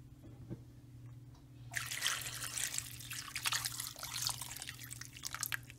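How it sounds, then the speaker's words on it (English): Water pours into a slow cooker pot of beef and barley soup, a quiet low hum giving way partway through to a loud, rushing splash that continues steadily to the end. "I'm going to put enough water in just to cover everything"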